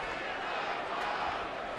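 A baseball stadium crowd roars after a big fly ball hit by a rookie, a sustained, wide wash of cheering that stays level and fairly distant throughout.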